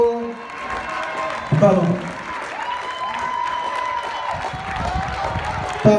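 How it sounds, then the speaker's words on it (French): Spectators at the Swiss National Games 2018 applaud 400m runners at an athletics meet, a moderate crowd clapping and cheering in the background while an announcer talks over it. "On les applaudit bien fort en tête donc."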